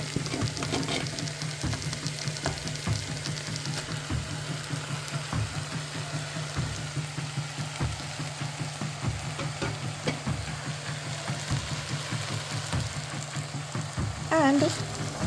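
Quinoa toasting in a hot pan after vegetables, a continuous close sizzle with frequent scraping stir strokes and a brief clink near the end, no speech.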